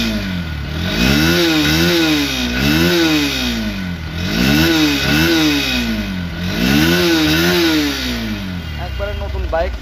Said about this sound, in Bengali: এখন দেখো বাইকটির সাউন্ড।